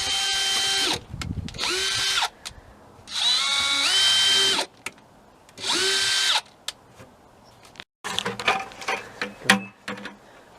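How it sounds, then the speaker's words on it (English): A power drill with a 1/8 inch bit boring holes in the bottoms of containers, with several whining bursts that rise and fall in pitch, separated by brief pauses, then quicker choppy revving at the end, close and loud. "I have a drill bit that's 1/8 of an inch in size, and I'm just going to drill a hole in the bottom of each of these."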